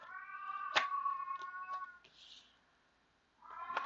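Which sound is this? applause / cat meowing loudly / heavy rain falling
cat meowing loudly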